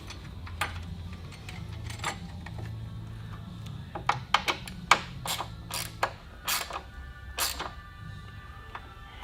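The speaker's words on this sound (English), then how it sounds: "Screw the bolt back in." A ratchet wrench clicks in short bursts, with scattered metallic ticks and clatter, as a bolt is screwed back into a bracket under the hood of a Jeep JT Gladiator Rubicon during a crankcase vent install; a low hum sits underneath.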